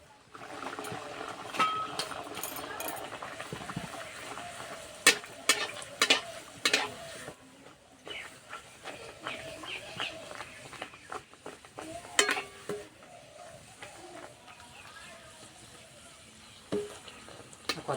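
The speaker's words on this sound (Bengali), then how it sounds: "এবার ভেজে নেব।" Pea kachori frying in hot oil on a stovetop, a steady bubbling sizzle with intermittent clinks and stirring sounds from a utensil, moderately close and continuous.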